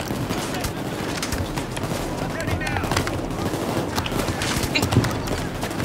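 Rapid gunfire aimed at the player during an FBI building raid in Payday 2, a continuous crackle of automatic shots close by, layered with busy game noise and voices talking over it.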